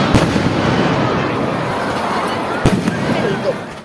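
Fireworks at the Puttur Mahalingeshwara temple festival: a loud, continuous crackling roar outdoors, punctuated by a couple of sharp, heavier bangs.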